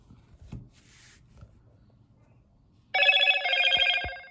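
A phone gives a loud electronic ringing notification tone as a Targus wireless folding keyboard pairs with it, arriving after faint handling clicks and rustles and continuing steadily to the end.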